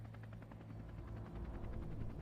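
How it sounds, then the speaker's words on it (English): A helicopter somewhere in the background of a game scene, its rotor producing a steady, rapid chopping pulse that is faint and continuous throughout, no voices. "Is that a helicopter I can hear in the background?"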